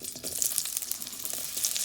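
Onions hit hot peanut oil in a pan for sweet and sour chicken, giving a bright, crackling sizzle that holds steady and close throughout.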